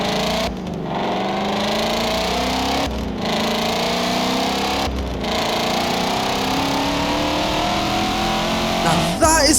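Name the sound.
Voodoo V8 car engine revving in Forza Motorsport 7 video game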